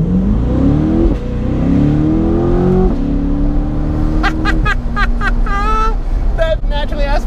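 A Chevrolet C8 Corvette Stingray Z51 convertible with its naturally aspirated 6.2 liter V8 revs loud and close, pitch climbing through shifts, then settles as a person talks over the engine.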